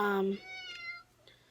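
A pet cat meows indoors, a short drawn-out call heard close and fairly clear right after a brief burst of a person's voice, followed by quieter room sound.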